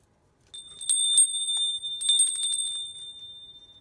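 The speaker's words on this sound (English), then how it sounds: "And never forget the sound of a bell." A single cleansing bell rings out clearly, its bright tone sustaining and slowly fading, with light tapping and shimmer along the way.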